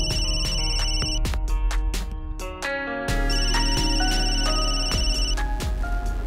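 Loud electronic phone ringtone for an incoming call, a bright repeating melodic pattern of synthetic tones with percussive hits, playing alone and continuously.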